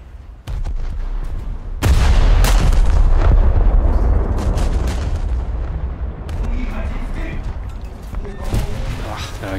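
Heavy naval 16-inch guns firing in a naval warfare video game, a loud sustained barrage of deep booming blasts rolling together, with a voice talking over the gunfire.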